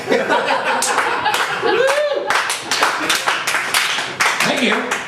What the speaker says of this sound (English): I'll wait for your applause